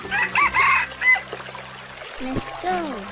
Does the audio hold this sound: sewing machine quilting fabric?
no